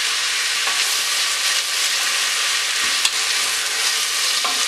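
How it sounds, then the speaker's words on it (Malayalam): Onions sautéing in a pressure cooker for Kerala-style beef curry, a steady bright sizzle with intermittent stirring scrapes and a light clink, close and continuous with no talking. "അടിയിൽ പിടിക്കാതെ നല്ലതുപോലെ ഇത് വഴറ്റിയെടുക്കണം"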